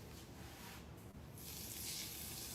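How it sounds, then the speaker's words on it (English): Hot oil poured over food sizzles in a home kitchen, a soft hiss that swells louder and brighter partway through and holds steady, faint and close. "It's sizzling."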